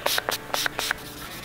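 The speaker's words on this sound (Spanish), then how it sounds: "vamos a terminar de lijar bien esta área para después pasar a pulir" Repeated short abrasive strokes of sanding car paint, a hissing scratchy rasp in a steady back-and-forth rhythm of about six passes, close and fairly quiet.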